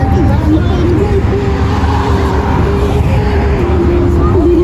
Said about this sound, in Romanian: Oh, e o mașină!